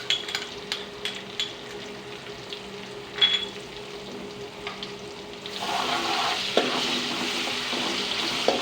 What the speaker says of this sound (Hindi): अब हम इनको थोड़ी देर भूनेंगे। अब हम इसमें ऐड करेंगे लहसुन अदरक का पेस्ट,